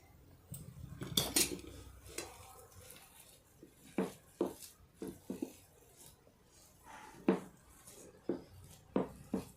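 Fried neem leaves are mixed into mashed potatoes with a spoon, giving soft, close clinks and scrapes against the dish in irregular bursts, some louder than others.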